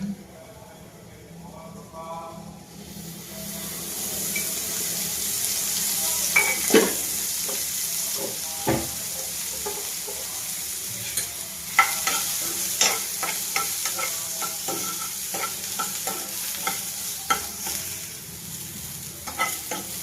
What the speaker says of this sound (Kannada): ನೋಡಿರಿ ಈ ಥರ ಹುರಿಬೇಕು